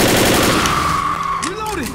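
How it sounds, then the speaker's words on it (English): Rapid assault rifle fire in the zombie shooter game Left 4 Dead, loud and dense at first and then trailing off, with other game effects mixed in. "This assault rifle should be doing more damage than it does"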